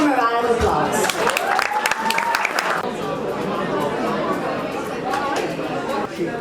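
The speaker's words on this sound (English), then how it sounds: "Please give him a round of applause." Applause and crowd chatter fill a graduation night ceremony as a speaker is called to the stage, with steady clapping throughout at moderate distance.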